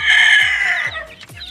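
Chicks cluck and chirp loudly up close while being fed, a short burst of high, shrill calls.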